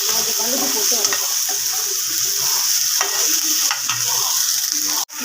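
Loud, steady sizzling of garlic and onions frying in a hot pan, with occasional stirring scrapes throughout and a sharp knock near the end.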